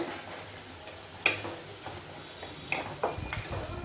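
Onions, curry leaves, mint and green chillies frying in a pan give a faint, low sizzle broken by scattered sharp ticks and clinks of stirring, with no talk.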